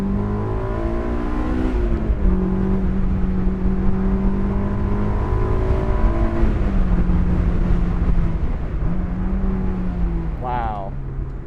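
Honda S2000 AP1 four-cylinder engine pulling hard through the gears, a steady loud rising whine that drops briefly at each shift, heard from inside the car under constant road and wind noise.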